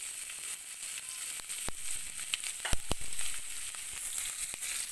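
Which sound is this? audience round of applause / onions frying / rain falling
onions frying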